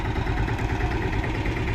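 A steady diesel boat engine runs at idle, a low continuous rumble with a faint clatter and no breaks.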